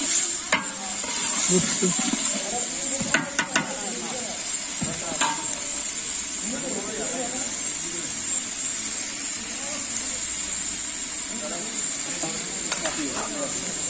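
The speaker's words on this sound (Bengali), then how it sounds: "ভাইয়া তেলের মধ্যে দিয়ে কি কি দিলেন? মরিচ, পেঁয়াজ বাটা, রসুন বাটা, আদা বাটা।" Chili with onion, garlic and ginger paste frying in hot oil over a village cooking fire, giving a steady, close sizzling hiss with occasional stirring scrapes and a brief spoken word.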